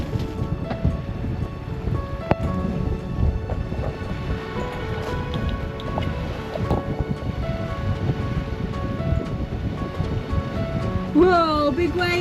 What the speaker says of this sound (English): Whoa, big wave, Tazzy, look.